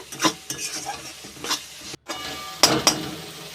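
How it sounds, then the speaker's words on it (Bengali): Ground spices being stirred and sizzling in a frying pan for a cauliflower egg curry, with scraping spoon strokes and a couple of sharp metallic clinks against the pan, close and fairly loud. "সমস্ত মশলা বেশ ভালো করে কষানো হয়ে গিয়েছে"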